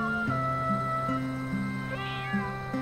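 Kittens meow in a sustained, tonal way during a Chinese TV drama scene, with repeated calls over a steady harmonic background and no speech.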